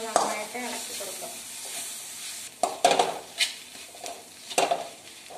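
Chicken masala is stirred in a pan over a soft sizzle, with several sharp spoon scrapes and knocks against the metal arriving in short bursts, close up and with no talking.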